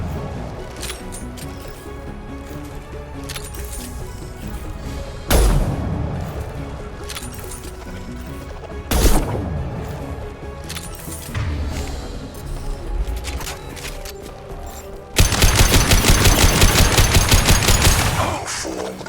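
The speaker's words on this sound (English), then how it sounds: "Firing a high-impact shot!" Mass Effect 2 combat with sharp gunshot bursts and heavy crashing impacts, ending in a loud rapid stream of automatic fire.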